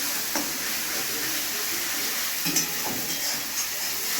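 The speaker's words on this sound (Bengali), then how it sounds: "মশলাটা ভালোভাবে কষতে নেব মশলাটা যেমন ভালোভাবে ভাজা হয়ে যায়" Masala with tomatoes frying in a pan, a dense continuous sizzle with occasional soft stirring scrapes, fairly close and even.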